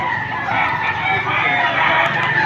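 Chickens at a poultry market in Padre Garcia, Batangas, with fowl calls and a possible rooster crow in a dense, loud, continuous mix of birds and crowd murmur.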